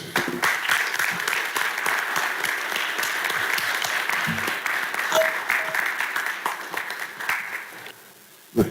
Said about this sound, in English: I just want to say thank you and give you all a round of applause.